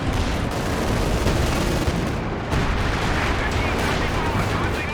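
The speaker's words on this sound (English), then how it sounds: "Got the Werfer strike coming through as well" Nebelwerfer rocket artillery strike in Company of Heroes 2, a dense, loud barrage of launches and explosions roaring continuously with overlapping booms and no letup.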